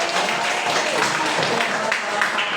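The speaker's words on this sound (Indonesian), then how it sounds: "Tepuk tangan buat Ali dulu." Applause in a classroom for a student, a steady wash of many hands clapping at moderate volume without a break.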